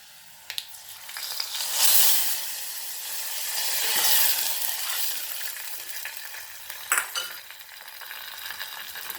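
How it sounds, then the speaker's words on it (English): Tempering sizzles loudly as it is poured into Goan sol kadhi, a kokum curry, swelling in bursts of hissing frying noise with a few sharp clinks of utensils, no voices. "And now we will put this tadka in this."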